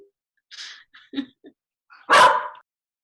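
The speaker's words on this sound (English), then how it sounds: "My dogs are barking at me because it's their dinner time." Pet dogs barking and yipping at dinner time indoors, a few short soft yips and whimpers followed by one loud, close bark near the end.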